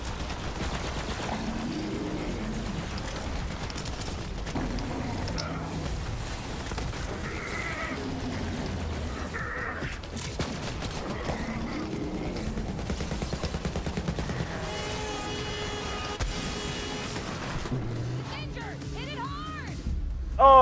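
Gunfire in the video game Borderlands 3 rattles on steadily under a dense mix of game effects and music, with bleating-like tones and voices mixed in.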